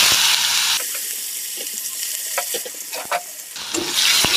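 Crushed tomato frying in hot oil while being stirred, a soft steady sizzle with scattered scraping clicks of the spoon against the pan, close and without voices.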